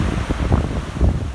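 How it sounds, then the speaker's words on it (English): Ocean waves rolling in and breaking on the shore on a clear day, a steady broadband rush with two swelling surges, mixed with wind buffeting the microphone. "Nice sized waves coming in, there's a nice surf."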